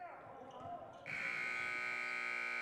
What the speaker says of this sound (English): we weren't able to get a shot off before the halftime buzzer